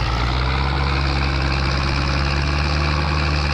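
Steady, loud tractor idle from Farming Simulator 22, a deep even engine drone with layered low harmonics that holds constant throughout, no voices over it.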